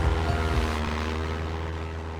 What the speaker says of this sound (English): DC-3 is a legendary 1930s airliner that revolutionized air travel and military transport